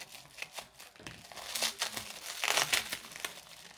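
Bubble wrap being pulled off an AliExpress parcel, with crinkling and rustling plastic in several bursts, loudest near the end, recorded close and without speech.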